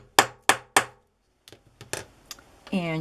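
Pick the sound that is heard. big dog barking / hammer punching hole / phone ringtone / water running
hammer punching hole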